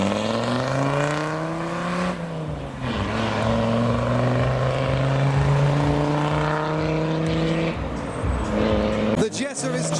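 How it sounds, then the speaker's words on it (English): A Volkswagen Jetta pulls away from a car show, its engine note rising and falling loudly and close, with other traffic passing and people talking nearby. "The Jetta is jetting off."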